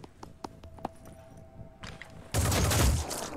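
Gunfire in the Phoenix Point video game: a few sharp isolated clicks lead into a sudden loud burst of rapid shots that rings on briefly and then fades.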